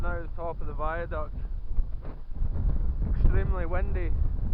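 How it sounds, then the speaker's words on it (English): Strong wind buffets the microphone in a steady low rumble atop a viaduct, with a voice talking over it at the start and again near the end. "Extremely windy."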